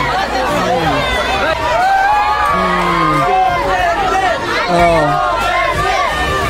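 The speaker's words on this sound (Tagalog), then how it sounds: "yung ganyang mga cheer ng tao" A large crowd cheers and shouts continuously, with rising chants and yells over dense babble, loud and sustained throughout.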